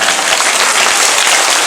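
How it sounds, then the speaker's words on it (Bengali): Loud, dense applause from an audience at a Bhagwat recitation on the sixth day of the path in Beldanga, a continuous close wash of clapping filling the short moment with no voices. "একবার সবার জন্য জোরদার হাততালি।"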